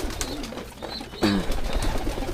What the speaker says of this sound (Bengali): কিছু কবুতর খাবার খেয়ে এই যে উপর স্ট্যান্ডের মধ্যে রেস্ট করতেছে।